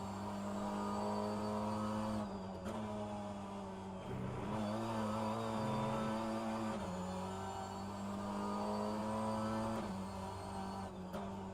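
A BTCC touring car engine in the rFactor 2 racing sim at Brands Hatch drones steadily and loud, holding a sustained whine with brief dips around gear changes before climbing again.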